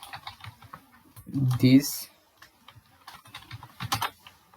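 VBA code being typed on a computer keyboard, scattered light key clicks in short bursts, with someone speaking briefly over them.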